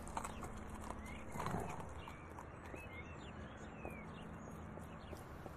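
Horse hooves clip-clopping at a steady walking pace under low, constant background noise, with faint birdsong and a few louder hoof falls near the middle.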